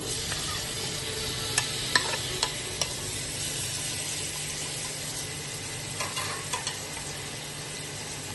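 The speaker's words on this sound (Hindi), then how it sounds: "अब अच्छे से हमने इसकी भुनाई कर ली।" Vegetables for Afghan borani baingan, including eggplant and green chili, sizzle steadily in a pan while a utensil scrapes and taps a few times as they are stirred, close by and moderately quiet.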